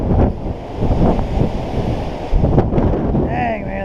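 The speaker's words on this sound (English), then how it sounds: "Dang man, this wind." Strong, gusty wind buffets the microphone outdoors on a catfish fishing trip, a loud rumbling roar that surges and eases in waves, with a brief voice near the end.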